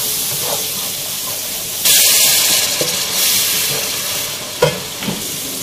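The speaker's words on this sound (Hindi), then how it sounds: "सब मसाले को हमें इसके अंदर साथ में अच्छे से भूनना है" Ground chilli, coriander powder and other spices fry in a pan for chana dal kofta masala, a loud steady hiss and sizzle with occasional stirring scrapes, no talking.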